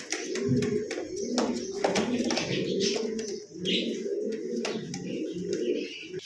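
Magpie pouter pigeons coo in a dense, continuous chorus close by, soft throaty rolls with scattered sharper clicks and flutters over a steady background.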